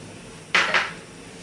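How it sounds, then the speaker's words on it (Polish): A spoon knocks twice against a pot of cooked pudding as sugar is stirred in, two quick metallic clinks close together, then quiet. "Budyń już mamy ugotowany. Dodajemy cukier."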